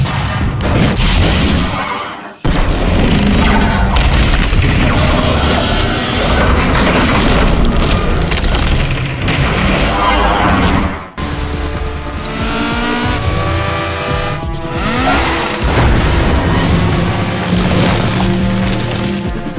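Explosions tear through a bridge in a Transformers video game, loud booming crashes and rumbling debris layered over dense action effects, with a sharp cut partway through before the clattering destruction continues.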